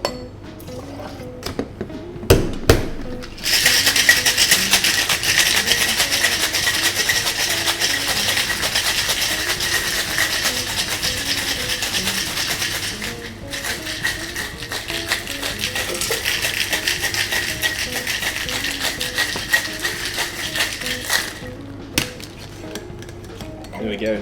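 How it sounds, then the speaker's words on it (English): A cocktail is shaken hard with lots of ice in a metal mixing tin, making a steady, loud rattle of ice that runs for about twenty seconds after a few opening clinks, with a voice speaking briefly under it. "Shake it with lots of ice."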